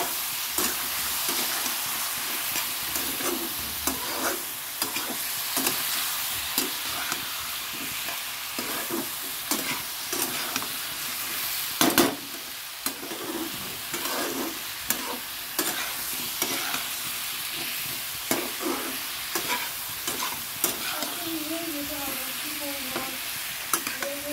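Spiced fish curry sautéing in a pan gives a continuous close sizzle and frying hiss, with frequent scraping and clanking strokes of a spoon stirring throughout.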